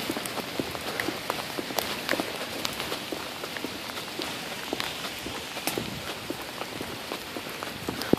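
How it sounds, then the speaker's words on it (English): Rain pours onto a New York City street during severe May storms, a dense steady patter with sharp drop ticks close by, heard alone without talking. "I like the rain."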